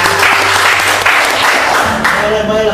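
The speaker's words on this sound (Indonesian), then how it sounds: "tepuk tangan dulu dong buat Bapak dan penerbat" An audience at a military talk applauds loudly and steadily, a dense wash of clapping that begins to thin out near the end as a voice starts up.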